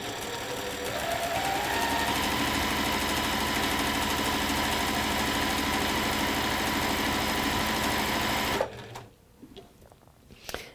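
A sewing machine stitches continuously with a fast, even rattle while chain piecing fabric pieces with black thread, running close and steady for most of the clip before stopping abruptly, followed by a few faint handling noises.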